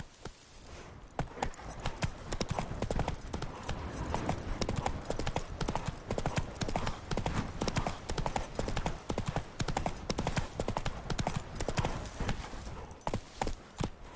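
Horse hooves gallop in The Witcher video game, a fast, continuous clip-clop rhythm that is close and steady throughout, with no voices.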